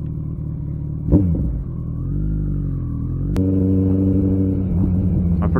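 A Kawasaki ZX14R motorcycle engine runs loud and steady, with a dense low rumble that swells slightly as it revs, heard up close without any talking.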